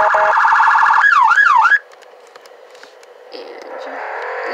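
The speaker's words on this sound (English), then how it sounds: "Got your police lights, siren," A sheriff's 2013 Chevy Impala in the Greenville video game sounds its siren: a loud, rapid yelp, then a rising-falling wail that cuts off, followed by softer engine-like tones.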